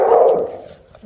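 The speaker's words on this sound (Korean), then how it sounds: "도우미관이 곧바로 큰 소리로 짖어 주위에 도움을 요청합니다" An assistance dog's loud, drawn-out bark or howl summoning help for a person with a physical disability in distress, close and fading over a second.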